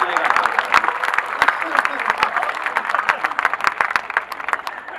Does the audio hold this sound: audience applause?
yes